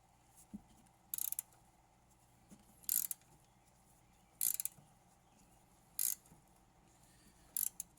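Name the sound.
ratchet wrench on 2015 Toyota Camry rear strut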